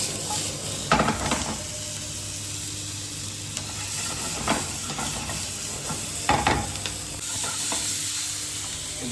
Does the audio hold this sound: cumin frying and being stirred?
yes